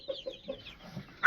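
A farm rooster clucks in a short series of soft, close calls, ending in a louder squawk.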